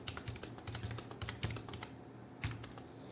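Quick, fairly quiet keystrokes on a computer keyboard, a burst of rapid clicks followed by a few sparser taps, close and alone.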